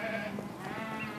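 Sheep bleating on a remote farm near Gisborne as working dogs muster the flock to the main shed; several overlapping bleats sound close and fairly loud against a busy outdoor background, continuing throughout.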